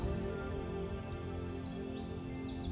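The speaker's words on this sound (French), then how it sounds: "et le silence et le chant des oiseaux" Birdsong in a quiet village in the Belgian Ardennes: several birds whistle and chirp in short, bright phrases over a steady low background hum, with no voices.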